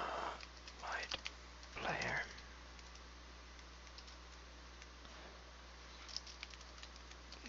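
Faint, scattered computer keyboard keystrokes while coding a checkers game. Soft clicks are spread across a quiet background with a low hum, and brief vocal sounds come near the start.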